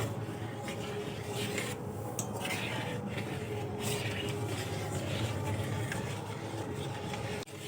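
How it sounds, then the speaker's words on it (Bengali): Semolina dough cooked with thickened milk is stirred in a pan over low heat, giving a continuous soft scraping and rubbing against the metal at a steady, even level. "এবার আমি সুজিটা নাড়তে থাকবো এভাবে নাড়তে নাড়তে একটা ডো তৈরি করে নেব"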